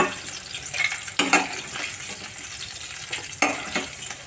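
Oil frying and sizzling in a pan while tempering spices for Tamil vatha kulambu: a steady hiss with a few sharp crackles and spoon stirs, close and moderately loud, with no talk.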